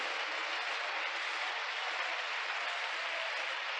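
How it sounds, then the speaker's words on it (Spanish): A church congregation applauding together, a dense, steady wash of clapping that holds at an even level throughout with no voices on top. "Le damos aplauso al Señor."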